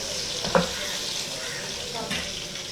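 Potatoes for aloo chaat fry in a pan with a steady soft sizzle and hiss, broken by a single clear tap of a utensil near the start and a faint scrape later.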